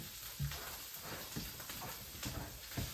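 Vegetables sautéing in a skillet for a Philly cheesesteak spaghetti, giving a steady close sizzle and hiss with a few soft stirring knocks and scrapes throughout.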